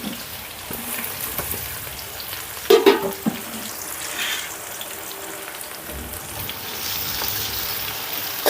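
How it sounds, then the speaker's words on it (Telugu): Chopped onions and green chillies fry in hot oil in a pan for home-style chicken dum biryani, giving a continuous, even sizzle with a couple of brief clinks of stirring partway through. "ఆయిల్ వేడైందండి ఆనియన్స్ వేసుకుందాం నాలుగు తరిగిన పచ్చిమిర్చి ముక్కలు కూడా వేసేస్తున్నాను"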